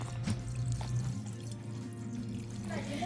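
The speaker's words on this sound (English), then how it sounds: "we will add in 850 milliliters of water into a large pot." Water is poured into a large pot in a kitchen, a splashing, gurgling stream that shifts in pitch as the pot fills, fairly close and moderately quiet.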